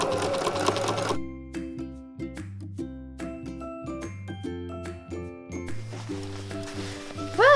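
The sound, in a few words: sewing machine stitching jacket lining center back seam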